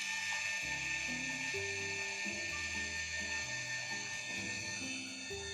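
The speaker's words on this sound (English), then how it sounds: "The grinder is now plugged, and that's how it sounds without any beans." An empty Starseeker E55 Pro coffee grinder runs with no beans inside, giving a steady, quiet mechanical whir with shifting tonal hums and a high whine that holds throughout.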